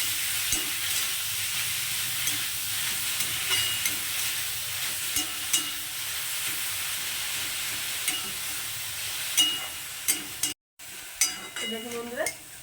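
Steady sizzling of beetroot frying in a pan, with occasional scrapes and stirring clinks of a utensil against the metal throughout.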